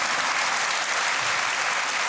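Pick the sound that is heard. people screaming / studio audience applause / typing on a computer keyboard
studio audience applause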